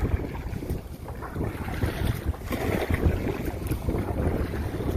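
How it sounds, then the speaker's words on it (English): Strong wind buffets a fishing boat on open water, a steady roaring rush with microphone wind noise and the wash of waves against the hull, continuous and close, with no talking. "The wind's picked up."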